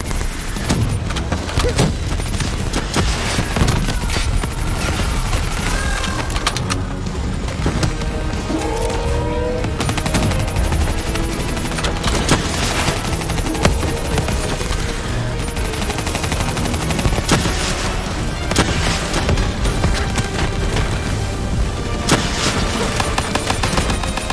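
Constant gunfire fills a Call of Duty: Black Ops III battle: rapid automatic bursts and single shots crack without pause, with occasional heavier booms beneath, loud and dense.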